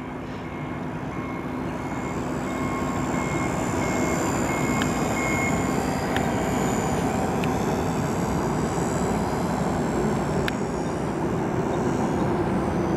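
A Hobbyzone SuperCub RC model airplane flies nearby, its steady electric motor whine droning continuously over outdoor background noise, with a few faint beeps.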